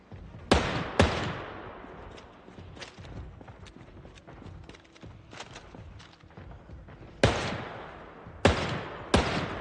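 Zombies in the Project Zomboid video game slap against wooden fences, sharp irregular thuds in loose clusters over a quieter rumbling background, some hits loud and close, others softer.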